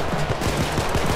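Gunfire in Payday 2, a dense, loud stretch of rapid overlapping shots in a chaotic firefight.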